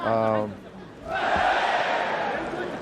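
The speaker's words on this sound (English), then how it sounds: "Crowd's going nuts." A Pride MMA fight crowd swells into a loud, sustained roar of cheering that bursts in about a second in, following a brief voice at the start.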